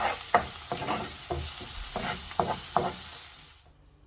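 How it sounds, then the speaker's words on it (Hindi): Onions frying in a pan with a little water added, a steady bright sizzle broken by several close scraping stirs, then the sizzle cuts off abruptly near the end as the pan is taken off. "ये प्याज रोस्ट हो गया है, फ्राई हो गया है"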